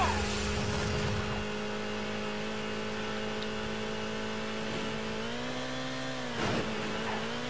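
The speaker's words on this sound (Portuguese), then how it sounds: "Vou soltar um nitro aqui que tá demorando pra acelerar, velho." A Nissan Skyline accelerates with nitro in Midnight Club Los Angeles, a steady droning engine whine that holds its pitch, then dips and climbs again, with no talk over it.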